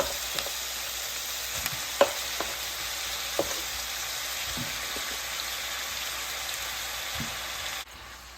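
Chopped broccoli and half a tomato frying in a pan, giving a steady, close hiss of sizzling oil with a few scattered pops and crackles, carrying on evenly before cutting off abruptly near the end.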